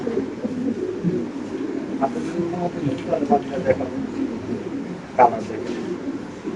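Bokhara pigeons coo in low, rolling phrases nearby, repeated several times, with people talking in the background.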